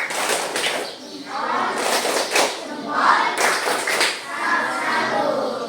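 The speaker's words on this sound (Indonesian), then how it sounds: "Tepuk tangan dulu. Tepuk tangan." A classroom of students claps hands together in a few uneven bursts, fairly close, with the applause swelling and easing in waves for several seconds and faint voices beneath.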